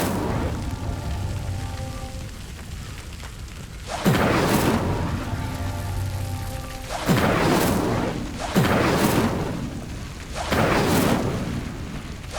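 An Incendio fire spell cast in the video game Hogwarts Legacy, heard as four loud whooshing bursts, each opening with a sharp onset and then roaring briefly over a continuous crackling, rain-like background.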